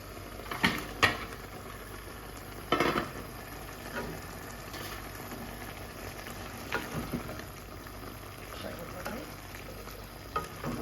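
Koi fish (climbing perch) fry in a pan with a steady sizzle, broken by a few louder spits and stirring clatters near the start and a couple of softer knocks later.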